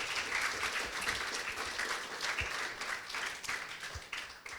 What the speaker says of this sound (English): Please give him a loud round of applause.